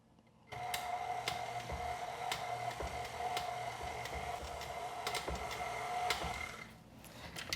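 A stand mixer fitted with a dough hook kneads heavy bread dough for Chilean pan amasado, giving a steady, continuous motor hum with light rhythmic ticking throughout, close and moderately loud with no talking.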